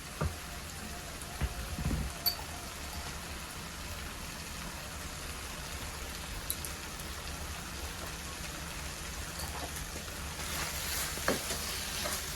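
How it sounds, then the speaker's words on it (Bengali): Spice masala and chopped tomato are stirred in a frying pan, with a soft, continuous sizzle and a few light scraping knocks of the spoon. The sound is fairly quiet throughout. "টমেটো দিয়ে মশলার সাথে আবারও ভালোভাবে মিশিয়ে নেব।"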